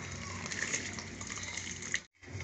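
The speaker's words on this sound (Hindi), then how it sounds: "अब इसमें चावल ऐड कर दूँगी मैं।" Rice poured into a pot of boiling water while cooking beef qorma, heard as a steady, close rush of sloshing and bubbling liquid that cuts off abruptly near the end.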